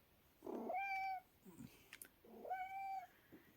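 A cat meows twice, close by, two drawn-out rising-and-falling calls separated by a short pause with faint rustling between them.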